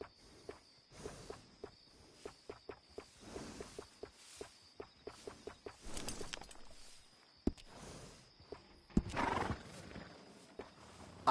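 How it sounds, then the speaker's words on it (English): A horse whinnies over repeated clip-clop hoofbeats in the video game Red Dead Redemption 2, with a steady high insect-like drone in the background and a few louder bursts. "I'm convinced horses love that."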